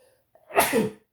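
A single close, sharp sneeze bursts out alone during a tabletop wargame session, with a short intake of breath just before it.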